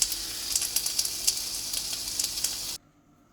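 Vegan eggless omelette cooking in a pan, a close, steady sizzle with small crackling pops that runs for nearly three seconds and then cuts off abruptly into silence.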